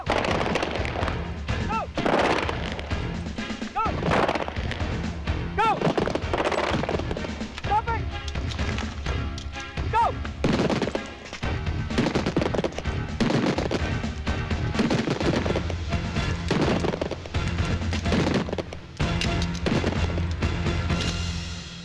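Hydro-shot bullets fired into modelling clay, rendered as loud repeated gunshot bangs over a dense, busy soundtrack, with people talking.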